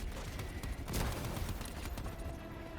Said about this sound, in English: I'll gladly launch a whole bunch of fucking grenades at them